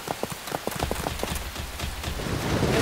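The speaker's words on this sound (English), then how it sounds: "Here come the rains." Rain begins falling in a cartoon rainy-season scene in Kenya, steady patter with scattered sharp drop hits, building slightly louder toward the end.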